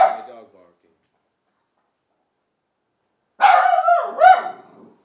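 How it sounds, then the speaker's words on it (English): Two close barks from a dog, a brief one at the start and a longer, wavering yelp a few seconds later, with silence in between. "And that's my dog barking."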